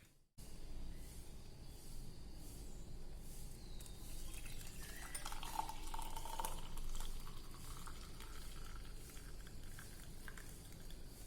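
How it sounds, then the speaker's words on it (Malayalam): Hot turmeric tea is poured through a strainer into a cup, a soft continuous trickle and liquid splash building in the middle, faint and close with no speech. "ഇനി ഇതൊന്ന് നമുക്ക് കുടിക്കാനുള്ള കപ്പിലേക്ക് ഫിൽറ്റർ ചെയ്തെടുക്കാം."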